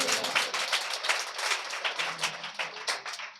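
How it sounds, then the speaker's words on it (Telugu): An audience at a church gathering claps in a steady, fairly close rhythm, the applause lasting throughout with no voices over it. "చప్పట్లు కొట్టండి"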